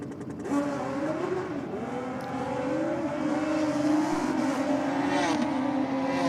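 Extended swing arm Suzuki Hayabusa launching solo down a drag strip at bike night, a sustained high-pitched engine wail climbing through the gears with brief shifts, loud and steady throughout.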